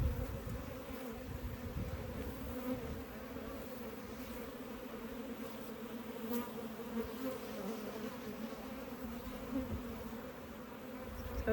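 Africanized honey bees in a hive built inside a water meter box make a steady, dense buzzing swarm drone, close and continuous throughout with no talking.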